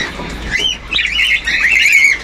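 A lutino pair of pet birds chirping in a cage, making a short run of high, close chirps and tweets over a low room hum.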